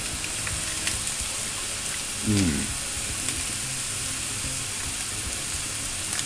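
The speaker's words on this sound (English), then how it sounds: "I got the pan really hot. I just want to sear it pretty quick, not trying to cook it." Venison sears in a very hot pan, giving a steady, close hiss and crackle of sizzling meat with a brief louder spatter midway and no talk.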